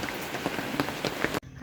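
Steady rain pours outdoors during a cleanup, a dense hiss with scattered drop ticks, loud and close, then it cuts off abruptly near the end.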